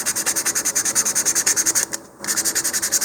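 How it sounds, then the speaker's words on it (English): A model rocket centering ring from an Estes Zinger kit being sanded by hand with fine grit sandpaper, close rapid back-and-forth rasping strokes in an even rhythm, broken by one short pause. "you can lightly sand the centering ring there. Use some fine grit sandpaper"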